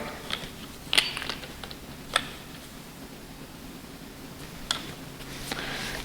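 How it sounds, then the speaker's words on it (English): A torque wrench tightening valve cover bolts on an engine, giving a few sharp clicks spaced a second or more apart over a low steady background hum. "Now onto the torque wrench."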